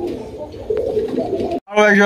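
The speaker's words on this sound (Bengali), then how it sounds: "খুবই সুন্দর চমৎকার রাজগোল্লা কবুতর, একদম বিগ সাইজ" Big Rajgolla pigeons give soft, low, throaty coos close by for a moment, and then a voice begins speaking right after a brief gap.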